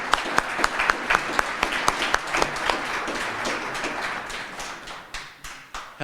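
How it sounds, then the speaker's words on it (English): Audience applause welcoming Governor Jared Polis at an annual meeting in Pueblo, a crowd clapping steadily with sharp individual claps standing out near the front, fading slightly toward the end. "Can I get a round of applause for Governor Jared Polis?"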